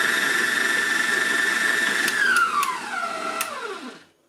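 A Heichkell 1400W stand mixer beats sugar and egg yolks with a steady high motor whine, then the pitch glides down as it slows to a stop, with a few faint clicks near the end.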